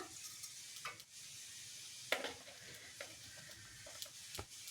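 Mustard seeds crackle in four to five spoons of hot oil in a pan, a steady faint sizzle broken by scattered sharp pops, with one louder burst near the middle and no voices.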